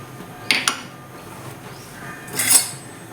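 A spoon clinks against a pot while chili, coriander and turmeric powder are stirred into a tamarind vatha kulambu with sundakkai, two quick metallic knocks followed by a scrape and a later clatter, fairly quiet.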